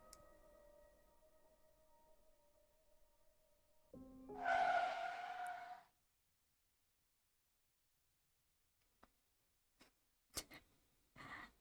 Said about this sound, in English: Whenever I hear a car screech in this game, I get a little scared.